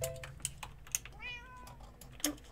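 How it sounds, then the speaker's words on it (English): A house cat gives a short, rising meow close to the mic, heard between quiet computer keyboard typing and clicks during a Minecraft PvP gaming session. "Don't meow at me"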